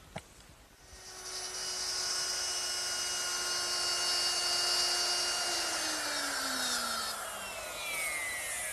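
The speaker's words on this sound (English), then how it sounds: "So I'm going to start with a 3/8 inch straight bit set up in my router." A router fitted with a 3/8 inch straight bit spins up to a high, steady whine and cuts through wood in a workshop, the tone holding loud and even before dropping slightly in pitch as the cut finishes, no speech.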